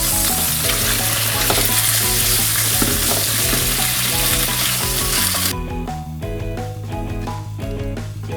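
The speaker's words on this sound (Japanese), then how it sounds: "イカを炒めていきます。" Squid with anchovy frying in a pan, a loud, steady close sizzle that runs throughout over background music.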